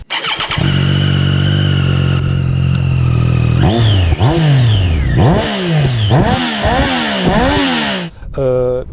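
A Triumph Street Triple S A2 three-cylinder motorcycle with a short compact exhaust starts and idles, then is blipped in several sharp revs that rise and fall, loud and close, before cutting off.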